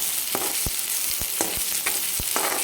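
Ground masala paste and onion frying in a pan for a mixed-dal sandge curry, with a steady close sizzle broken by regular scraping stirs about every half second.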